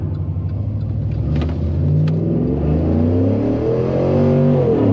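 A Chevrolet Silverado with a 6.0 engine swap accelerating hard on a quarter-mile run, loud rising engine roar climbing through the gears, close and with no talk.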